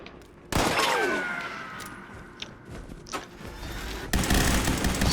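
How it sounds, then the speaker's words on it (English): An Ultracite Gatling Laser fires in Fallout 76, a loud sustained burst with a whirring spin-up, continuous rapid discharge and a sharp second volley at the end. "for the first literally second, you get a quick burst of fire"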